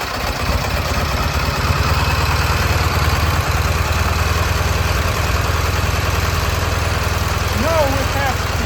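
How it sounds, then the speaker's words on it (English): A vintage Soviet motorcycle engine, an M-72, K-750, Dnipro or Ural type with restored carburetors, runs at a steady idle with a continuous low, pulsing rumble and faint mechanical chatter, close and fairly loud throughout. "Turn off the choke, turn on the ignition and start it."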